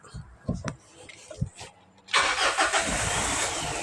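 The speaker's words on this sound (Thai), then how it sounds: "อ่าตอนนี้สตาร์ทรถแล้วครับ" A 2018 Mitsubishi Triton cranks and starts after about two seconds of faint knocks and handling noises, settling into a steady, close, fairly loud engine idle with a broad rushing hiss.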